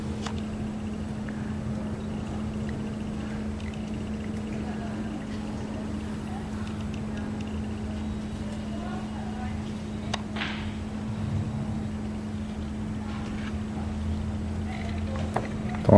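A VW Gol G5 1.0 8V Flex EA111 engine with a dirty throttle body hums steadily at idle, a low, even drone heard up close, with one short click partway through.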